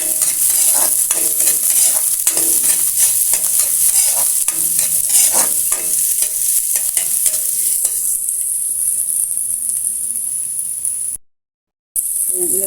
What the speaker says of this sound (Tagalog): habang nagigisa yung ating karne ay nagigisa na din yung ating sibuyas at saka bawang.